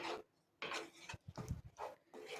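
A spoon scrapes and rubs through green chickpea curry with jaggery in a pan, a few quiet, rhythmic scraping strokes close up.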